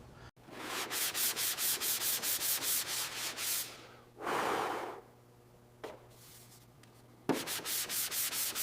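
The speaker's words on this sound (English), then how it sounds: "This F40 panel is finally getting smooth. The dual action sander makes all the difference." A dual action sander working 320 grit paper over a fire-damaged Ferrari F40 body panel, giving a loud pulsing rasp in rhythmic strokes with brief pauses and a whooshing pass in the middle.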